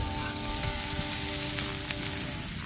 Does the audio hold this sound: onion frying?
yes